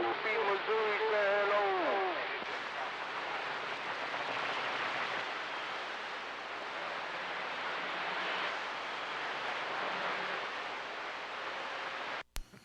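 Steady hiss of CB radio static fills the channel, with a brief warbling tone at the start and a sharp click as it cuts off.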